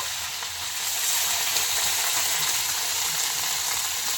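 Ginger and garlic paste frying in hot oil for a chicken dish, a steady, close, loud sizzle and hiss that swells slightly after the first second and holds evenly throughout, with no voices.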